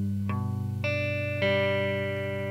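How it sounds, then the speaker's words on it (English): Electric guitar with a clean chorus-effect tone plays a riff, three plucked notes ringing out one after another and sustaining, moderately quiet with no talking. "So that riff sounds like this."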